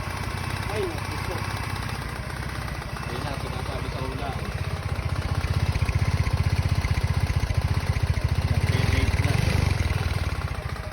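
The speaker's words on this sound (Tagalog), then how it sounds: "At ayan, naririnig nyo naman, napakaingay ng makina." A Yamaha Mio i 125 scooter engine runs noisily and roughly after its oil ran low, a close, rattling, uneven drone that swells louder midway while someone talks over it.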